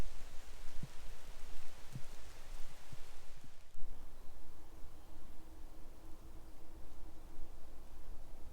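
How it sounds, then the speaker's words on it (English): Rain falling in a larch forest at dusk, a steady close hiss of drops on foliage and ground, with a few soft knocks early on and a faint low hum later. "it has just started to rain again"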